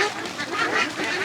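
Philippine black ducks (itik) on a farm with around 300 birds, a dense, continuous chorus of overlapping quacks and honks, close and steady throughout with no talking.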